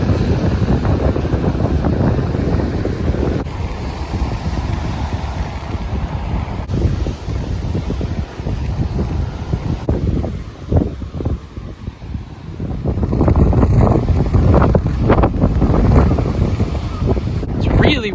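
Strong gusty wind buffets the microphone near a beach on a cycling route in Japan, a loud continuous roar that swells and eases, with waves faintly beneath it.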